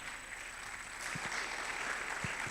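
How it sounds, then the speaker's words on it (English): Audience applause at a data science summit in Ghana, a steady wash of clapping that swells slightly midway and carries on evenly, with a few low thumps underneath. "Keep clapping till he gets here,"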